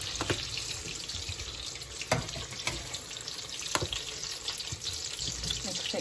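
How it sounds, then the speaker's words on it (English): Milk splashed into a green coriander and chili chutney, a soft liquid pour with faint wet stirring and a few light clinks, close and quiet under a steady kitchen hiss. "I'm just going to add a little splash of milk just to kind of loosen it up a bit."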